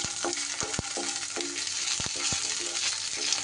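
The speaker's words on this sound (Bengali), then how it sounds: "সব উপকরণগুলো একটু এইভাবে নাড়িয়ে চাড়িয়ে ভেজে নিচ্ছি।" Green chillies and a few peanuts fry in a pan, with a steady close sizzle and several sharp spatula knocks and scrapes as the mixture is stirred.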